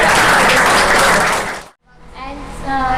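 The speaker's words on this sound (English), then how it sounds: "A big round of applause." An audience loudly applauds an award winner at a monthly rewards and recognition ceremony, with dense clapping that cuts off abruptly, then a quieter stretch of clapping with voices underneath.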